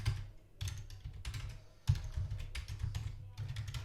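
Keys clatter on a computer keyboard while JavaScript code is being typed, coming in quick close-up bursts of keystrokes with short pauses between them and no talking.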